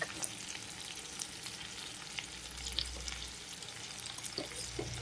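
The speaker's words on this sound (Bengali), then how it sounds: "এখন আমরা এটা ভালো করে ভাজা দিয়ে দেবো।" Food for fried rice sizzles steadily in a pan, a dense, continuous frying hiss with a faint low hum underneath and no voices.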